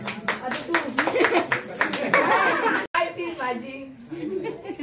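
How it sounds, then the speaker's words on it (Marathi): Applause at a Konkani wedding ceremony, a burst of close, brisk clapping mixed with chatter and light laughter, then people talking. "टाळ्या"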